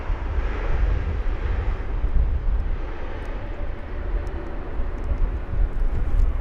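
A Turkish Airlines airliner lands at London Heathrow, a loud, rumbling jet engine roar with low wind-like noise, steady throughout without any speech.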